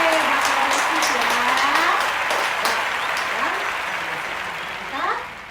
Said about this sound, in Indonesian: kasih tepuk tangan sekali lagi deh